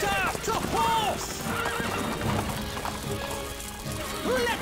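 Video game horses whinnying loudly as knights mount up for a castle siege, rising neighs at the start and end with clip-clopping hooves and a busy clatter between, voices calling under the mix.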